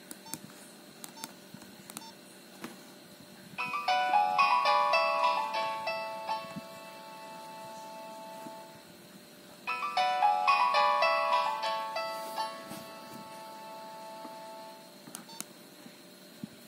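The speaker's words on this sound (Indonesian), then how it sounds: "kita akan nostalgia lagi dengan ringtone Nokia" A Nokia 1208 mobile phone ringtone plays a bright electronic melody twice, each phrase lasting about five seconds with a pause between, clear and alone over faint background hiss.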